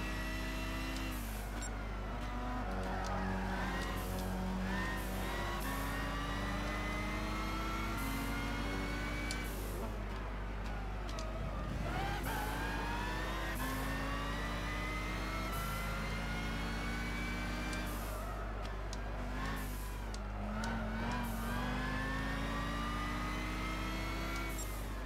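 Race car engines at Brands Hatch in the video game Gran Turismo 6 hum steadily, with revs rising and falling through gear changes and several louder surges, with no talk.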